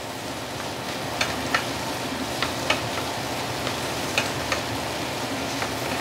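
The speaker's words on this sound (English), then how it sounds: "I don't mind charring my sambal a little bit here to give it some enhanced flavor" Sambal being stir-fried and charred in a hot pan gives a steady, moderately loud sizzle, broken by light, irregular ticks and scrapes from stirring, with no voices.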